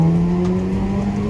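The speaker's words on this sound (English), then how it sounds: "The gurgles and pops never get old" Audi on a downhill touge run, its loud exhaust droning steadily with a low burbling hum, heard close up from inside the car.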